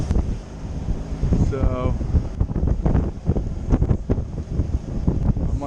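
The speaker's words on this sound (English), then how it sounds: "So now it's blowing 30 knots." Strong 30-knot wind buffets the microphone aboard a sailboat motoring into the wind on the Intracoastal Waterway under staysail, a steady loud roar with gusts, while someone talks over it.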